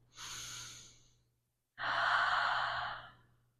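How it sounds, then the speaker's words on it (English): Two deep breaths during a yoga backbend, a shorter inhale followed by a longer, fuller exhale, close and soft with a brief pause between them, no talking. "Big breath."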